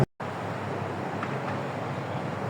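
Steady wind roars broadly and continuously at a night market area, with a low rumble of distant traffic underneath and no voices.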